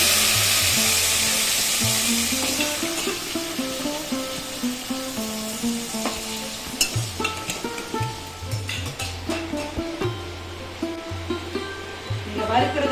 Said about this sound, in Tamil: தலைக்கறியை மட்டும் எடுத்து நம்ம இந்த எண்ணெயோட வதக்கிக்கலாங்க